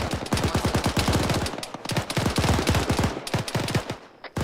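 Rapid bursts of automatic gunfire during close-quarters battle training for a base of fire, loud and close, rattling in long strings with brief pauses between volleys.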